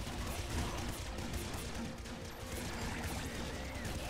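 Dense, continuous gunfire from the top-down shooter video game Nuclear Throne, a steady wash of rapid synthetic shots and bursts that fills the whole stretch without pause.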